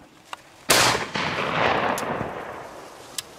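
A single loud shotgun shot fired during pigeon hunting over a pea field, a sharp blast followed by a long rolling echo across open farmland.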